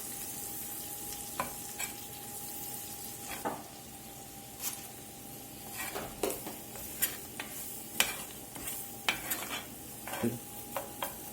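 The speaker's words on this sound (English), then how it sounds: "We're just going to let this flour cook here about 2 minutes, get the raw off of it" Flour cooks in butter and onions for a roux. A soft, steady sizzle runs throughout while a utensil stirs and scrapes the pan in repeated light strokes, fairly quiet and close, with no voices.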